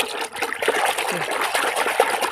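Shampoo is poured into a jar for a homemade herbal pest spray for vegetables, a loud, close, gurgling splash of liquid lasting a couple of seconds with uneven bubbling, no talking.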